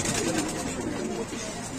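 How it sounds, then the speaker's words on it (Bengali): Lahori pigeons coo softly at close range, low murmuring calls repeating over a busy background of other birds. "এটা অরিজিনাল লাহোরি কবুতর, মাত্র অনেক সুন্দর।"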